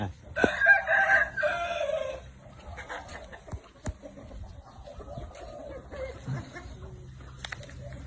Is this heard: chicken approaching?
yes